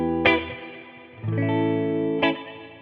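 An electric guitar runs through a reverb pedal on its hall setting, with distortion and chorus also in the chain. Three strummed chords land about a second apart, each ringing out in a long, lush, sustained tail.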